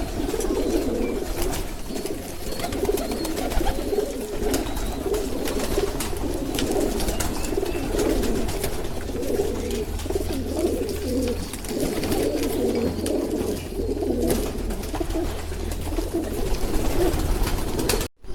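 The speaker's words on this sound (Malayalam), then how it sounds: "ഫസ്റ്റത്തെ കോളനി സിസ്റ്റത്തിലെ പ്രാവുകൾ" Pigeons in colony-system cages at a Kerala pigeon loft coo steadily and continuously, a dense low murmur of many birds close by with faint wing rustles and no voices.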